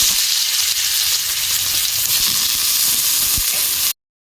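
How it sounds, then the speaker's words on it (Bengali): Potatoes fry in hot oil tempered with black cumin, giving a loud continuous sizzle with occasional stirring knocks, cutting off abruptly near the end. "আলুটা ভেজে নেব।"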